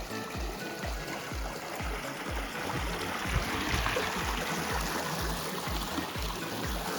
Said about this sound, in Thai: ลำธาร มีน้ำไหลอยู่ตลอดเวลาครับ